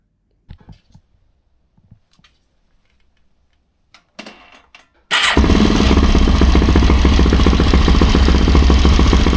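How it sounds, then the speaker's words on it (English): Near silence with scattered faint clicks, then a Suzuki LTZ400 ATV engine roars to life and idles loudly and steadily with a busy mechanical rattle from a worn chain tensioner. "I will show you now a video of how the engine sounds."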